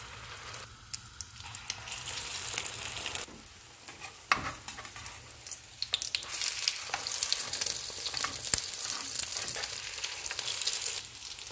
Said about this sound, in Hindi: कबाब को अंडे में डिप करके फ्राई कर लेंगे।